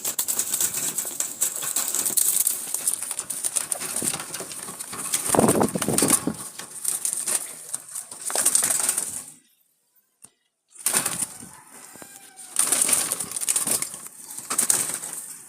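Jalali pigeons flutter and flap their wings in bursts close by, mixed with scrabbling and light clattering, with a short quiet gap midway.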